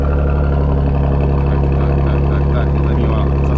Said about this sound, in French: je te propose un petit démarrage à froid, c'est toujours sympathique, d'autant plus quand c'est en sportif